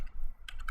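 Brief, quiet burst of keystrokes on a computer keyboard, a few quick taps with no voice over them.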